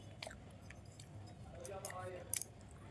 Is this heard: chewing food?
yes